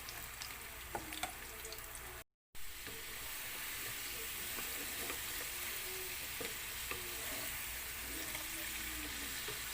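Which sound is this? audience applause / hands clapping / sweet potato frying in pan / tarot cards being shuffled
sweet potato frying in pan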